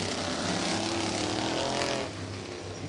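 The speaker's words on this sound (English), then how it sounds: "You can hear some different tones of engines as they run side by side off of turn number 2" USAC Western States midget race cars, including a 327 cubic inch engine, roar side by side off turn two at Santa Maria Speedway, a loud, continuous blended engine drone with overlapping tones that eases slightly near the end.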